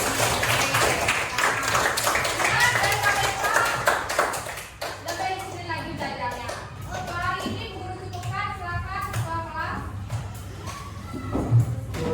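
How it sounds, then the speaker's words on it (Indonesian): A classroom of children claps together at the end of a lesson, a dense burst of small hands for about four seconds, then fades into scattered taps and children's chatter. "sekarang kita tepuk tangan dulu untuk pembelajaran"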